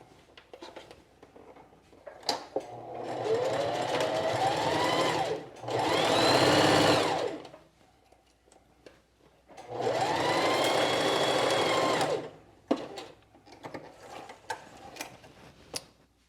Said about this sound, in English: I've sewn both those shoulders in slightly different ways